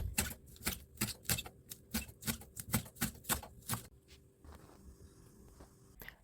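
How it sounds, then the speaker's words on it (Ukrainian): A knife finely chops young green onion rapidly on a cutting board in quick, even strokes for a few seconds, then the chopping stops and only faint taps remain. "Мілко подрібнюю зелену молоду цибулю"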